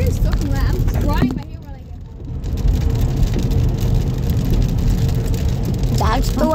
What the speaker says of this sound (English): The rain slowed down a little bit, but it was hailing.